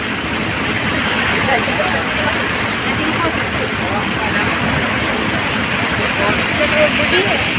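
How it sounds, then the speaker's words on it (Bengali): Heavy rain pours down steadily during a Durga Puja celebration, a dense, continuous wash of noise with a loud, unbroken roar and voices murmuring underneath. "দেখছো জল কেমন পড়িছে"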